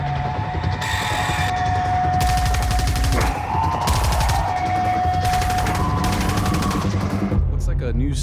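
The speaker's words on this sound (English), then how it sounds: "Looks like a new submachine gun also." Bursts of rapid submachine gun fire in a video game, several loud sustained volleys broken by brief pauses, close and sharp, ending with a few quieter sounds.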